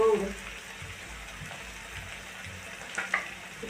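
Egg curry masala roasts in hot oil in a pan, giving a steady soft sizzle and frying hiss with occasional stirring scrapes, close and continuous.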